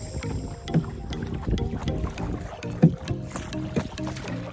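A small boat ride on open water at Konapuram, with a low motor rumble, wind buffeting the microphone and irregular knocks and splashes against the hull.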